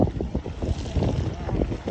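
Strong wind buffets the microphone at Lusail Marina in Qatar on a cold, dark evening, a continuous rumbling roar with gusty surges, voices faintly mixed in.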